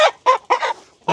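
A rooster lets out a series of short, raspy clucks in quick bursts, close and fairly loud, with brief pauses between.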